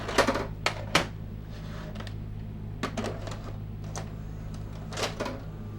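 Mechanical clicks and clunks from a Hitachi 20VR2B TV-VCR combo as an Eastman SP videotape is ejected and loaded, several sharp knocks spread over a few seconds above a steady low hum.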